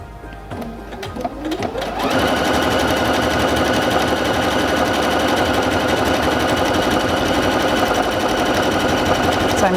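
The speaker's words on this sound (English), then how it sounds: "When you're sewing a stitch and you want to stop, you can press this button and it will pause, tie off the stitch, and stop sewing." A Singer Featherweight C240 sewing machine runs steadily on stitch number 53, starting after a few clicks and then keeping up a loud, continuous mechanical whir and rapid needle chatter to the end.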